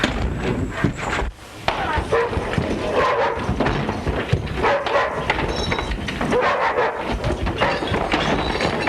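A hungry dog yelps and whimpers in a western movie scene after being kicked, short barks and cries mixed into a busy, noisy saloon-style soundtrack with other clatter throughout.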